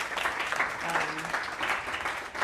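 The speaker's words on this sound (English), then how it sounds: "Round of applause for Dr. Khalid." Audience applause at a conference on female spirituality in Islam, honoring a panelist named Dr. Khalid; a steady wash of clapping fills the hall, with a faint voice briefly audible underneath.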